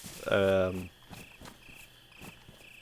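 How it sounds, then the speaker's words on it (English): Crickets chirp in a steady repeating pulse in the background of the video game DayZ Standalone, while a brief voice sounds at the start. "those crickets are fucking loud"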